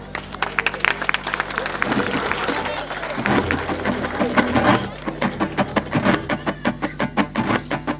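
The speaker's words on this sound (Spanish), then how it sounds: "Así que un gran aplauso para todos ustedes" Applause from a live concert audience at an album launch, mixed with crowd noise and loud sharp claps that turn into a steady rhythmic clapping pattern toward the end.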